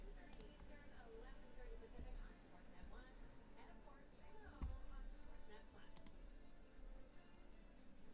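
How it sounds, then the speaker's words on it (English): Clicky mechanical computer keyboard clattering in quick irregular bursts, fairly close, under steady room noise and a person talking. "it's one of those really clicky keyboards, too"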